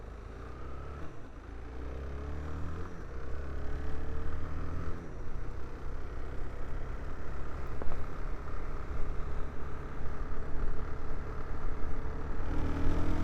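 A 2025 Suzuki DR-Z4S motorcycle engine on the move, a steady low drone with gear changes and rising and falling revs, plus constant wind rush over the rider.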